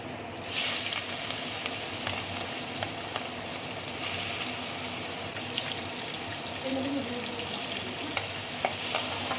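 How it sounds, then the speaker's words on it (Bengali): Shrimp fry in hot oil in a wok with a steady, continuous sizzle, joined by a few sharp clicks and scrapes of stirring near the end. "তেল গরম হয়ে গেছে। এবারে আমি চিংড়িটা ভেজে নেব।"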